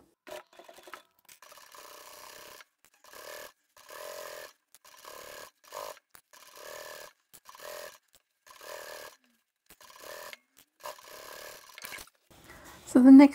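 A sewing machine topstitches the outer fabric and lining of a large DIY duffle travel bag, running in a string of short, close, fairly quiet bursts separated by pauses.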